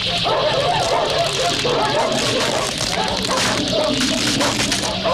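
Dogs bark and yip through a dense, noisy mix from the 1982 film The Thing, with voices mixed in throughout.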